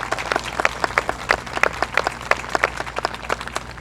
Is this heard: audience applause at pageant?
yes